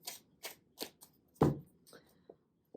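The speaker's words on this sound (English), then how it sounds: "Let me do a little shuffle here" Tarot cards are shuffled in a series of quick papery riffles and taps, evenly spaced at first, then a heavier thump and a few lighter flicks, close and dry.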